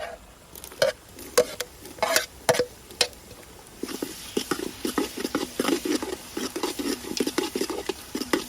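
Tomatoes go into a pan of village-style Gujarati mutton masala. A few sharp metal clinks come first, then steady close-up stirring and scraping over a soft sizzle.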